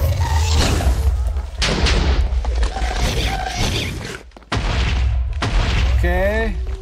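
Gunfire and explosions in Minecraft, on a Christmas Chaos CTM map: repeated heavy booms and thuds in bursts, with a voice talking over much of it.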